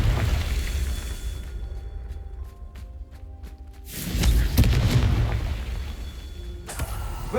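Confringo fire spell explosions in Hogwarts Legacy, a loud booming blast near four seconds that rolls into sustained rumbling debris, after a quieter stretch of sparse magical tones.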